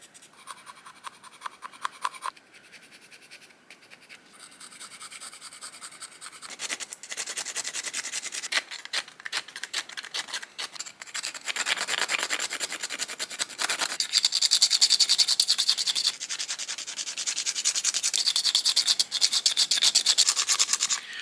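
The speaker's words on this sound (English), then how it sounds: "Scraping out the inside wall with that flat edge." A flat flint edge scrapes out the inside wall of a wooden fist-knife handle, giving steady, close rasping strokes that grow louder and denser over time, with no talking.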